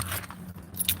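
Keys jangle briefly and close by in a quiet space, a short metallic rattle of a few bright clinks.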